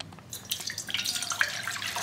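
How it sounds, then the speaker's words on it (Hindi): Water pours into a kadhai on the stove while cooking chana dal fara, a short burst of splashing and trickling that starts after a brief quiet moment, close and clear, no speech. "यहाँ पे पानी मैंने आधी कढ़ाई रखा है"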